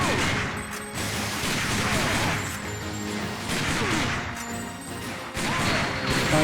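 Rapid bursts of machine gun fire in the Time Crisis arcade shooter game, loud clattering volleys with crashing impacts repeating across the span.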